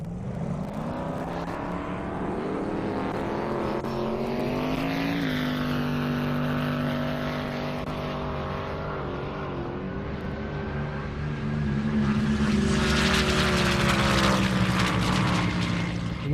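White C7 Corvette on a half-mile airstrip drag run making 215-plus mph, engine droning loud and steady, with gear shifts, then swelling louder toward the end as it passes close.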